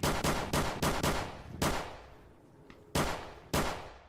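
Loud gunshots ring out nearby in quick bursts of several rapid, booming cracks, then a short pause before a few more single shots.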